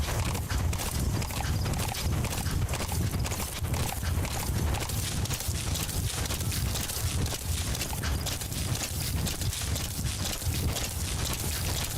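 Horse hooves clip-clop in a steady, rhythmic trot in the Metal Gear Solid video game, loud and close and continuous throughout, with a faint whinny-like texture and no talking.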